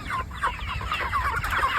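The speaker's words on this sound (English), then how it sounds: "Get ready to move the chickens" Chickens on a farm clucking in short repeated bursts, several birds close by, busy and uneven over a low background rumble, with no talking.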